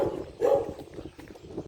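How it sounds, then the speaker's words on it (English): A dog barks once or twice, fairly close, in a Cyprus village while walking past houses, with a short burst standing out over street ambience and footsteps. "past another dog"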